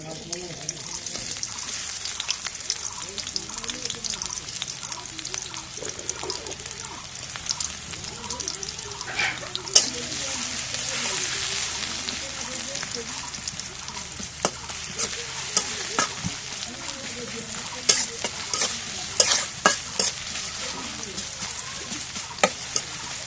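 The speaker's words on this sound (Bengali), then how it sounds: "এখন করে তেল দিয়ে দিই এখন পেঁয়াজ কাটা দিয়ে দিই" Chopped onion sizzling in hot oil in a home kitchen, a steady frying hiss broken by scraping stirs and clinks of a utensil, with some quiet background voices.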